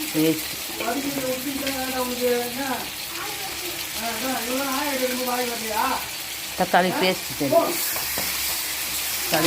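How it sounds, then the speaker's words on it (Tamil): Onions and tomato paste sautéing in a pan for a Tamil mushroom curry, a steady close sizzle with occasional stirring scrapes, while a voice talks over it throughout. "தக்காளி பேஸ்ட் சேர்த்து நம்ம காளான் குழம்புக்கு நல்லா வதங்கணும்."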